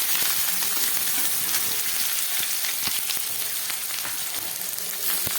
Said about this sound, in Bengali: এবার এর মধ্যে আমি দিয়ে দিচ্ছি কেটে রাখা পেঁয়াজটা